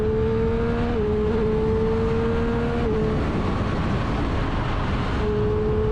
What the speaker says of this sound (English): That engine though, that engine just sounds so good.